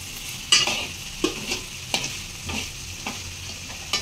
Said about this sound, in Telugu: ఆనియన్స్ వేగుతున్నాయి కదండి, అందుకే కొంచెం ఉప్పు వేసుకోవాలి